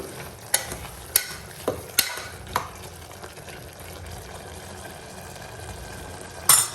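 Masala for avarekalu masala bath, a hyacinth bean dish, cooking in a pan over a low flame, giving a soft steady sizzle and bubble with several sharp clicks of a utensil against the pan near the start and end.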